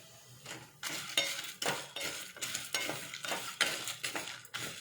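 Chilies roasting in hot oil with dal for Surati khaman, sizzling and frying while a spoon scrapes and clinks against the pan in steady, repeated stirring strokes, close and fairly quiet.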